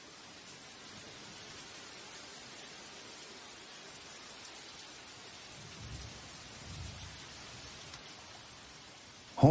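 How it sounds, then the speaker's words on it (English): Rain falling in a tropical forest with a soft low thunder rumble swelling in the latter part, a steady hiss of drops throughout, fairly quiet, ending with a brief louder burst. "The inhabitants of the tropical forest always welcome the rain."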